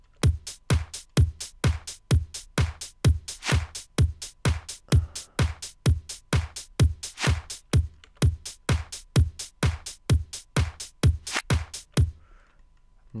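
A reversed clap sample in FL Studio repeats about two dozen times in a steady, even pulse, each hit swelling in and cutting off sharply, loud and alone with no talking, before stopping abruptly near the end.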